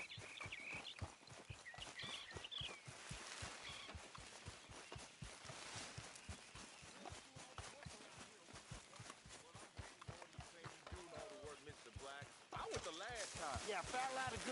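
Rhythmic hoof clip-clop runs steadily throughout, a horse moving at a regular gait in Red Dead Redemption 2, with voices and game effects layered over it.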